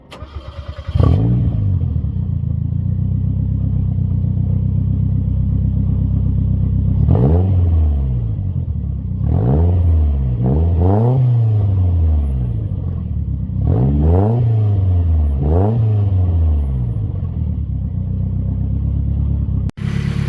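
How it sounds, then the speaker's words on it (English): A turbocharged Mazda Miata engine with unequal length headers starts and idles with a deep rumble, then is revved several times in quick blips, each rising and falling, before cutting off abruptly. "I'll give it a couple of revs so that you guys can kind of hear it"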